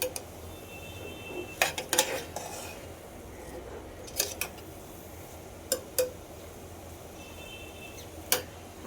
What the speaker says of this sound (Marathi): मला हे मस्त असं तुपामध्ये छान असा परतून घ्यायचा आहे तो किस।